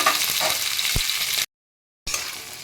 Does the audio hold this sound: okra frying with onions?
yes